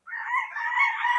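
A round head gamecock rooster crowing once, close and fairly loud, in a single sustained call lasting about a second.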